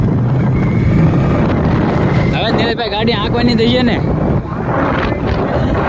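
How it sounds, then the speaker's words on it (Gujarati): Steady wind gusting and roaring against the microphone on a forested hilltop near Surat, with someone speaking over the rushing noise. "મસ્ત પવન આવો"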